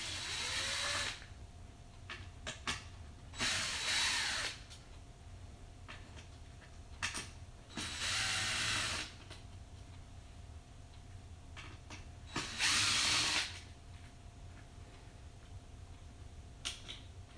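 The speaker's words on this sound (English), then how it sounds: "I'm going to switch over to my Phillips screwdriver head. And we're going to take out this whole piece right here." A power screwdriver fitted with a Phillips head runs in four short bursts of a second or so each, backing screws out of the power supply of an Elation Opti Tri Par light, with small clicks and taps between bursts.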